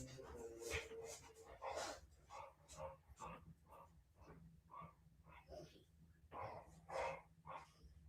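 A pet dog being let indoors whines and barks in short repeated bursts close by, mixed with a voice talking over it throughout.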